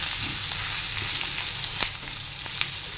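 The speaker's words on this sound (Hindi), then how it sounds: "थोड़े जो मसाले हैं इनको हम पका लेंगे" Spices with turmeric fry in a pan for a pahadi gethi vegetable dish, giving a steady close sizzle and crackle with a few brief stirring scrapes.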